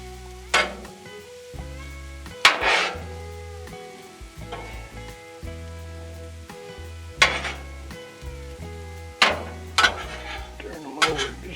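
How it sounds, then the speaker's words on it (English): Chicken and vegetables turned and pushed across a hot Blackstone griddle with a metal spatula: steady sizzling underneath, punctuated by several sharp scraping clanks of the spatula against the flat-top, close and clear, with a low background hum. "Turn them over, just kind of scoot them towards the hotter part."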